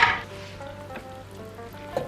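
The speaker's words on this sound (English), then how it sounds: "this is the marshmallows cooking" Vegan marshmallows cooking in a pan, a soft, steady sizzle with faint clinks and a low hum, close by and with no talking.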